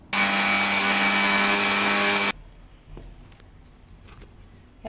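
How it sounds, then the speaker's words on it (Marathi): A mixer grinder whirs loudly and evenly for about two seconds while grinding coconut, garlic, coriander and a little sesame, then stops abruptly, leaving quiet room noise and faint clinks. "आधी खोबरं, लसूण, कोथिंबीर आणि थोडेसे तीळ आपण हे मिक्सरमध्ये"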